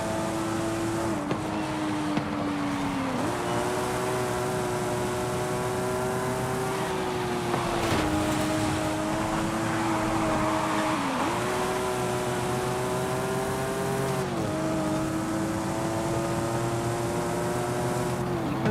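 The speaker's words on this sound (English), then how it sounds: "The RB26 likes a rev." A Nissan RB26-engined car in Forza Horizon 5 holds a loud, close, sustained engine drone that climbs through the revs, with several short dips where gears shift.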